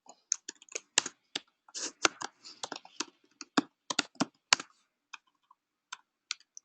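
Computer keyboard keys are tapped while code is written, an irregular run of close, crisp clicks in quick bursts with brief pauses and near silence between.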